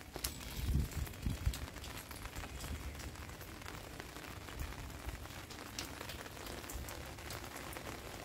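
Rain falls steadily on a terrace garden, a soft, dense patter of drops on leaves and pots with a few louder splashes near the start, continuous and fairly faint with no voices.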